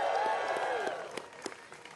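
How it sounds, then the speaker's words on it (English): Audience applause at a live New York transportation announcement with the governor and mayor, moderately loud and mixed with a voice or cheering at first, then thinning into scattered, separate claps. "Let's give them a round of applause."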